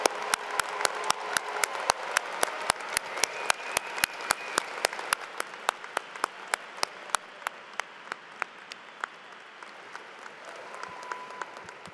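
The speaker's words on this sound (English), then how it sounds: "Would the audience join me in applauding our newest EDDs, PhDs, and DNPs?" An audience at a December university commencement applauds new doctoral graduates, with massed clapping and regular sharp close claps that stand out. The crowd sound thins over twelve seconds until mostly scattered single claps remain.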